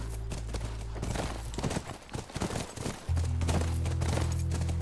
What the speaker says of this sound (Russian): Это наша лошадь, она должна быть там.